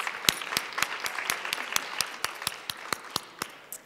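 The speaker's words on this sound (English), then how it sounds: "Let's give them a round of applause." Rhythmic, evenly spaced claps at a health-equity event on COVID-19 and vaccine hesitancy, sounding like a single close pair of hands or a sparse, unified group beating about four times a second over a faint background.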